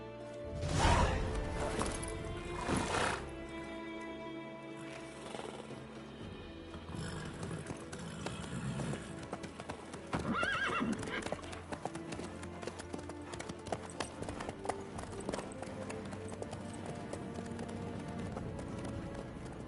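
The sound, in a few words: horse hooves clip-clopping, from a video game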